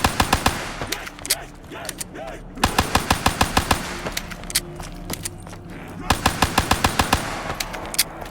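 Rapid bursts of pistol fire spammed at a boss in Black Ops 3 Zombies, Der Eisendrache: three clusters of sharp, evenly spaced shots, loud and close, separated by short pauses with game background noise.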